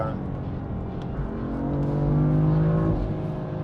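A BMW M4 engine revs and holds high, its throaty note climbing steadily before easing off, loud and close.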